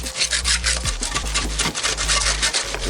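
Scrubbing rust off metal magnet fishing finds: steady, close, loud rasping strokes repeating in a fast back-and-forth rhythm, with a low hum underneath.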